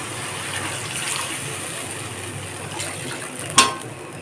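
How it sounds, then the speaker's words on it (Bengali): Water from a mixer jar poured into cooked, oil-releasing masala for Parse Macher Jhal, a steady close splashing gush with a brief sharp clink near the end, no talking. "এখন মিক্সির জারেতে যে জলটা দিয়েছিলাম সেই জলটাকে দিয়ে দেব।"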